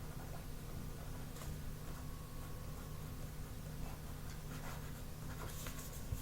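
A pencil sketches on paper in a quiet room, giving faint, scattered scratchy strokes over a steady low background hum, with a few stronger strokes near the end.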